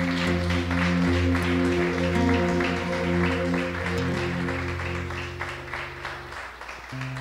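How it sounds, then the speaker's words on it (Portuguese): A congregation claps over sustained organ or keyboard chords, steady applause that gradually thins out toward the end. "Vamos aplaudir o Senhor Jesus."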